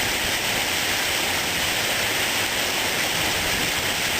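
Heavy rain from Tropical Storm Lee falls near the coast, a dense, steady hiss pouring down without a break and with no voices.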